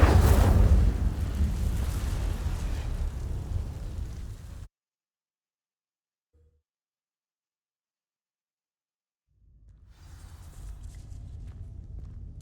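The Incendio fire spell in Hogwarts Legacy sets dry vines ablaze with a loud, roaring whoosh of flame that fades out abruptly into silence, then a softer crackling ambience returns.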